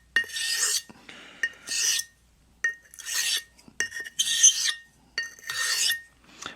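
A Portland Razor Company "Siren" quarter-hollow straight razor worked on a 1000-grit hone gives repeated scraping strokes of steel on stone, about six close, crisp passes with short pauses between, alone without talk.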